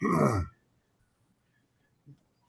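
One short, loud cough at the start, then near silence with a faint small thump shortly before the end.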